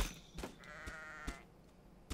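Sheep in the Reign of Kings game let out a drawn-out bleat, with several sharp thumps of hits before and after it, fairly close and without talk.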